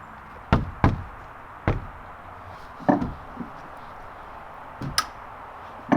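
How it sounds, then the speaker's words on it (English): A heavy steel door being handled on a cabin build, giving a series of sharp knocks and thumps spaced irregularly over several seconds, fairly close, with a steady background hiss and no talk. "Geez, steel doors are heavy."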